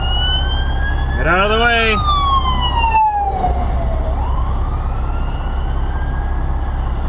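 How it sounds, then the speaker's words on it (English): Emergency vehicle sirens wail past on a road, with loud rising and falling sweeps over a steady engine rumble and a man calling out during the passing. "Oh, here comes more sirens."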